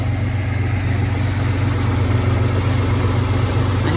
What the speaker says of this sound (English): I've got it idling and it sounds great.